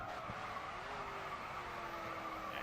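Car drifting through a corner in the GRID 2 racing game, a steady engine drone with a long sustained tire squeal held over the whole stretch, no talking.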